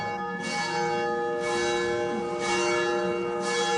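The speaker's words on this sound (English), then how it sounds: "Have you ever stopped to imagine how many people have heard this bell?" A cathedral bell in Sicily tolls loud and resonant, about four evenly spaced strikes with long ringing overtones sustaining between them.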